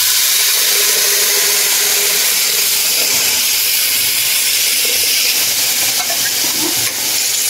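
Mustard seeds and cumin sizzling in hot oil for a corn gravy curry, a loud dense continuous hiss and spatter that stays close and even throughout, with no talking.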